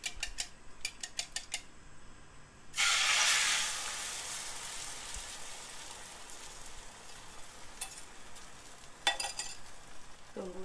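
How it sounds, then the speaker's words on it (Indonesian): Egg poured into a thinly oiled hot pan for a spicy smashed-egg dish, a loud hissing sizzle bursting in up close, then settling into a steady frying crackle with brief utensil clinks. "Setelah minyaknya panas, terus kita tuang telurnya"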